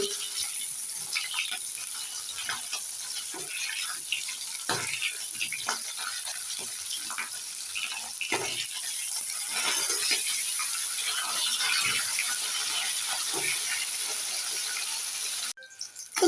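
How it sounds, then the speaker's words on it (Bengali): Fish sputtering in hot white oil in a kadai as the pieces are turned, a continuous sizzle broken by scattered light clicks and scrapes of the utensil, ending in a sharp knock. "এবার একটু মাছগুলোকে উল্টে নেব"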